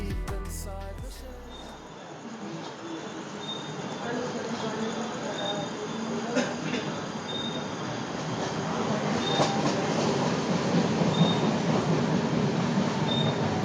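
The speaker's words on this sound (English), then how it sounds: "we took an overnight train ride to the city of Aswan in southern Egypt" Overnight passenger train to Aswan in southern Egypt rumbling steadily along the rails, with a constant low roar, rhythmic wheel clatter and faint squeals building slightly louder over the ride.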